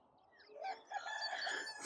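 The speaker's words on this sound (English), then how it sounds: "the sound of so many chickens is because at some point there'll be an egg farm" Chickens from a nearby egg farm clucking and crowing, heard faintly in the distance as a rising, drawn-out crow layered over a busy flock.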